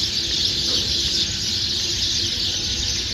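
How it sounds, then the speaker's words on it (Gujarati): Sparrows chirp in the early morning near a temple, a dense, steady high twittering chorus that runs throughout over a low background rumble. "ચકલિયું અવાજ કરે છે"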